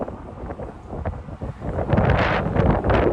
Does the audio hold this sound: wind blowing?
yes